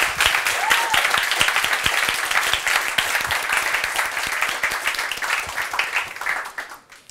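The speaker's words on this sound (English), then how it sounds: "I would like to have another clap, clap, clap for all of those" Steady audience applause at a book presentation, a dense, even patter of many hands clapping for several seconds before tapering off at the end.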